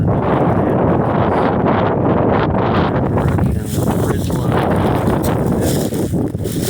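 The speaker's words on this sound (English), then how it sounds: "Bit on the windy side up here." Strong wind on an exposed mountain ridge near a summit, loud and steady buffeting against the microphone with gusty rushes throughout.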